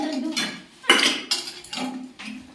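Steel utensils and dishes clank and clink in bursts as a large pile of pots is handled and washed at home, several sharp metallic knocks spaced irregularly, fairly close.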